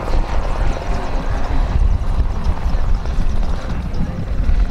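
A helicopter flying at an air show gives off a loud, steady, close rotor thrum and engine roar throughout, with faint voices beneath it.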